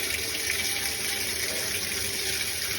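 Water rushes steadily into a Whirlpool WTW4816FW2 top-load washer through a newly replaced water inlet valve, a constant close gushing hiss with no talking.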